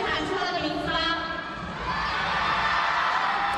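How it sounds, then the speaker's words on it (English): A big crowd roars and cheers steadily at a lead climbing semi-final in Wujiang, a dense, loud wall of voices that swells slightly as a climber gets going. "Huge crowd roar as Yanya gets going now."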